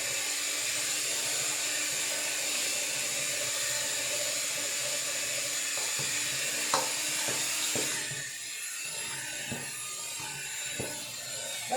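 Cinnamon roll dough being beaten in a bowl with flour: a continuous close whirring mechanical mixing noise, with a few soft knocks and a slight drop in tone partway through.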